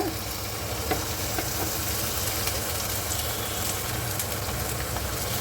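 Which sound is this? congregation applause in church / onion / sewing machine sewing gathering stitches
onion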